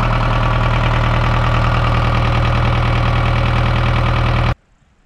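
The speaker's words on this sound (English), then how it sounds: "Now this tractor runs, but there's a problem with her." A running tractor engine with a coolant leak, oil mixed with coolant, drones steadily and loudly up close with a rough, even idle pulse before cutting off abruptly near the end.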